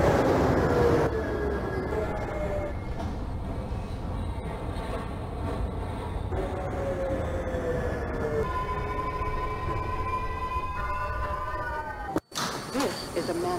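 A New York City subway 2 train runs in the OpenBVE train simulator game, with steady rumbling wheel and motor noise, rising and falling tonal whines, and a sharp brief clack near the end.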